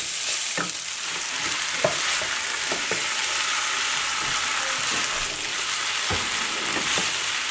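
Shrimp tipped into a pan of Chinese-style pasta fry with a steady loud sizzle, broken by scattered clacks and scrapes of a utensil stirring the noodles.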